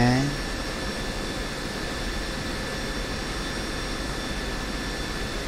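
Pakistan Air Force F-16C Block 52 jet engine roaring steadily on the ground near the runway before takeoff, a loud, continuous broadband whine with high tonal lines and a brief rising tone at the start.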